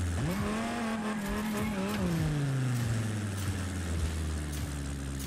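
A car in the racing game Rocket Racing drifts with a sustained tire squeal and a rising then falling engine whine, loud and continuous for several seconds with no talk.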